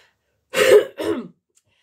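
Two close, rough coughs, closer to throat-clearing, from someone suffering a daytime cough, quickly one after the other, then quiet.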